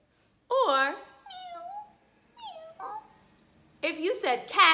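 A cat meows several times up close, drawn-out and clear, with a short burst of speech near the end.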